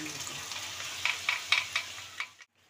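Boiled peas poured into a pan of simmering ghugni, a wet sizzle with a few stirring scrapes and splashy bursts close by, ending abruptly in silence.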